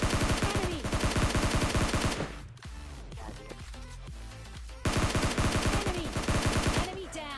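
S12K shotguns fire in PUBG Mobile Lite, dense rapid bursts of loud gunshots in two clusters separated by a quieter stretch of scattered game sounds.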